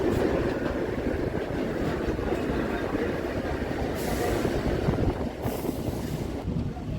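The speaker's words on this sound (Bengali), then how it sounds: "কলকাতা নর্থ সাউথ মেট্রো বেলগাছিয়ার দিকে যাচ্ছে" A Kolkata North-South Metro train heads toward Belgachia, its steady roar and clickety-clack filling the space loudly and continuously, with brief hissing surges near the end.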